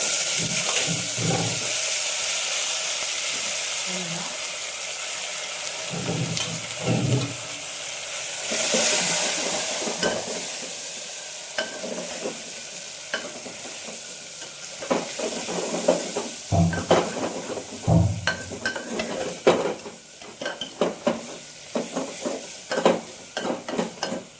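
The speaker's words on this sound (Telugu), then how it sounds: "ధనియాలు మిరపకాయలు టమాటాలు అన్నీ వేగాలి నూనెలోనే" Coriander seeds, dried chillies and tomatoes frying in oil in a pan, a continuous loud sizzle with stirring scrapes and clatters of the utensil against the pot, growing busier toward the end.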